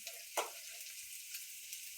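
Vegetables roast in a pan on low heat, a soft, steady sizzle with one brief clatter of a utensil early on, fairly quiet and close.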